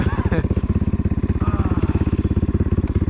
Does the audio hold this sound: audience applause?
no